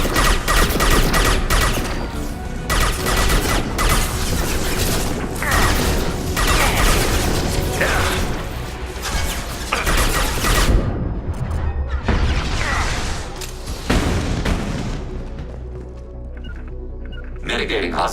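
Hostile gunfire rattles in Mass Effect 2, a long stretch of dense, loud bursts and crashing impacts layered over battle noise, with voices speaking throughout, easing slightly near the end.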